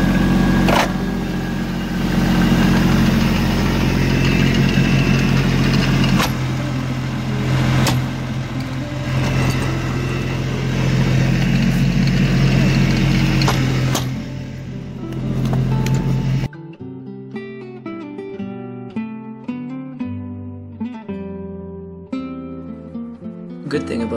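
A tractor's rear PTO drives a log splitter, a steady loud engine drone with mechanical whine for the first sixteen seconds before it cuts to quieter, choppy sound.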